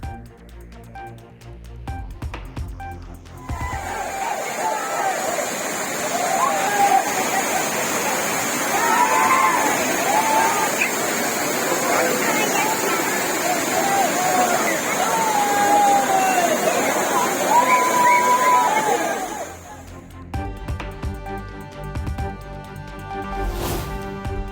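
Courtallam waterfalls pour in a loud, continuous rushing roar, with a crowd of tourists murmuring beneath it. Quieter news-style sound comes before and after.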